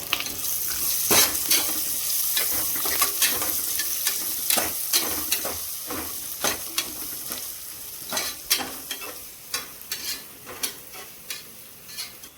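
Green chillies and curry leaves fry in a pan for a hotel-style salna, a steady sizzle broken by repeated scraping strokes of stirring, close and moderately loud, with no voices.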